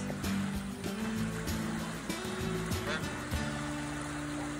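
Dirty water draining from a DIY dog pond, a steady rushing and gurgling flow heard close up, with a constant low motor-like hum running underneath it throughout.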